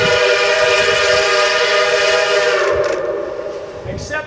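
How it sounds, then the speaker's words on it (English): A steam train whistle blows a loud, sustained chord with rich harmonics, holding steady for several seconds before fading slightly under some rumbling background noise. "Except the steam whistle is big, and that big size makes, you guessed it, a low sound."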